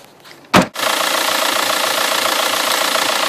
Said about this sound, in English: Pretty typical sound for a TDI Passat.